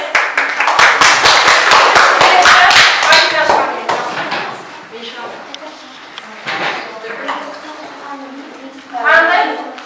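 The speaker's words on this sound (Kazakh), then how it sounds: "Өте жақсы, шапалақтайық." A sixth-grade classroom breaks into quick, loud hand clapping for about three seconds, then the applause fades and a teacher's voice carries on talking.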